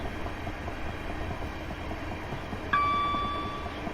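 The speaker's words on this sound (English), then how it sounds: "I think there's going to be a train passing us in a second" Railway rumble and wheel clatter on a Class 375 run from London Victoria to Ramsgate in Train Simulator 2018, a steady rolling noise joined near the end by a sudden bright tone as a passing train arrives.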